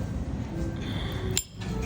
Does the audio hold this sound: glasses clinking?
yes